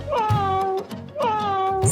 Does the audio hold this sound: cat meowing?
yes